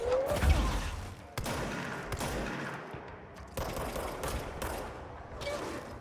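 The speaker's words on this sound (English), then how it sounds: "Stop shooting me, it's really harsh." Gunfire in the action video game Control, dense bursts of shots filling the clip, loud and close, with brief breaks between volleys.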